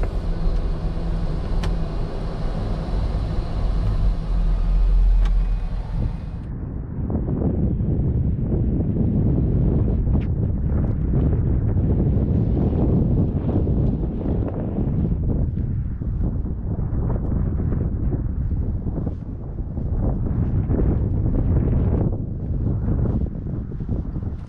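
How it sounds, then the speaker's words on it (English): Piaggio P180 Avanti in flight, a loud, steady cabin roar of turboprop engines and rushing wind, with a shift in tone after a few seconds to a deeper, continuous rumble that persists throughout. "today's aircraft is the Piaggio P180"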